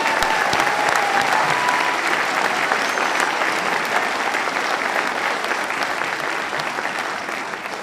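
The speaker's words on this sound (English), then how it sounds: "I want you to give him a really good round of applause." An audience at a school holiday concert applauds loudly and continuously, a dense wash of clapping from a full crowd that slowly fades toward the end.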